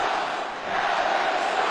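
Basketball arena crowd roaring and murmuring in reaction to a flagrant foul, a sustained broad wash of many voices at moderate distance, swelling slightly midway.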